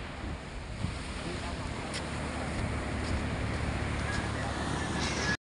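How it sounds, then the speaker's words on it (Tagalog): Steady wash of seaside waves and wind on a beach, a continuous broadband roar with gusty wind noise on the microphone and faint scattered bird calls, running evenly until it cuts off abruptly. "Nandito pa rin tayo sa tabing dagat."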